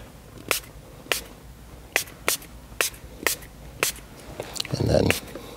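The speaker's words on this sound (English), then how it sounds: "Now I'm going to spritz." A handheld spray bottle spritzes an infotainment screen seven times in a steady, unhurried rhythm, each burst a short crisp hiss, followed by a softer rustle of wiping or handling at the end.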